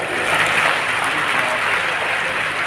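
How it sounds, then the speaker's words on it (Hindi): Women in a crowd clap steadily to welcome guests at a Women's Day event in Dewas, a dense continuous wash of applause held at an even level throughout. "आदरणीय मुरलीधर राव जी भी आए, उनका भी ताली बजा के स्वागत कीजिए"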